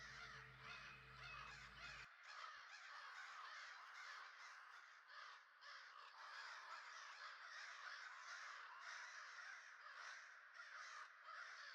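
Crows cawing as ambient sound for a lumber operation scene, a thick, continuous chorus of many overlapping harsh caws at a fairly even level, with no talking.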